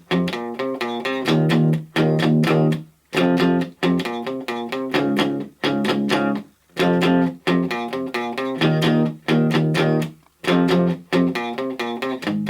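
Distorted electric guitar plays the verse riff of a song, loud choppy chords and palm-muted bursts in a tight repeating rhythm with short gaps, alone with no talking.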